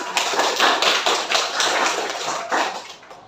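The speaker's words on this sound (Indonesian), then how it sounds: "tepuk tangan untuk kelompok" A class of students claps for a classmate group after their presentation, a brisk burst of close handclaps that stays fairly even and then tapers slightly near the end.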